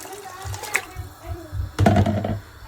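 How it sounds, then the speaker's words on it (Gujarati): Water is poured into a cooking pot of basmati rice khichdi, with soft trickles and then a fuller splashing pour near the end, close and moderately loud. "તો આપણે એમાં જોઈતા પ્રમાણમાં પાણી નાખી દઈશું."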